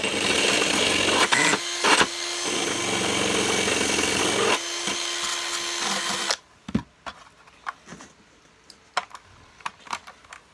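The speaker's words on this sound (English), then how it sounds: "So before I start cleaning it, I'm going to remove the residual rust." Steady, dense abrasive scrubbing runs for several seconds as residual rust is cleared from a Hoover Junior Dirtsearcher 1354A vacuum cleaner. It then stops and gives way to scattered light knocks and scrapes. Nobody speaks.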